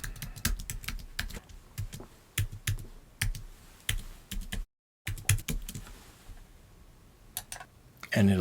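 Keys clatter on a computer keyboard as a username and password are typed, with quick irregular clicks in bursts, a brief silent gap midway, then more scattered taps toward the end.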